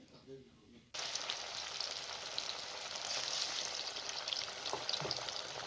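Fish frying in a pan gives a bright, even hiss of hot oil that starts abruptly after a quiet, murmuring second and then continues steadily, with occasional soft pops.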